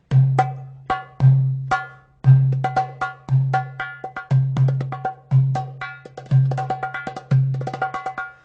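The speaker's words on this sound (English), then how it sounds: "it's just a goblet-shaped drum and with a head on it." A goblet drum plays a steady repeating rhythm, deep booming low strokes alternating with crisp, ringing high taps near the rim, close and clear.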